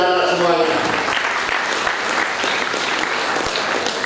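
A crowd at a junior high school graduation claps loudly and steadily, dense applause filling the room with a few sharper hand claps standing out.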